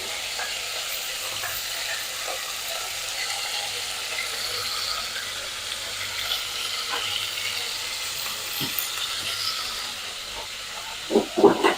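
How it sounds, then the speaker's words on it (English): Steak fries in cooking oil with a continuous soft sizzle, scattered crackles and pops, and a few louder clicks near the end. "So I'm just going to cook half the steak."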